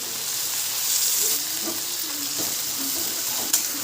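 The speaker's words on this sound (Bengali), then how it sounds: "এবার ভেজে রাখা চিকেনের টুকরোটা দিয়ে দেবো।" Chow mein noodles and pieces of fried chicken stir-fried in a pan for Kolkata restaurant-style chicken chow mein, giving a steady, close, bright sizzle with faint scrapes and small knocks of stirring.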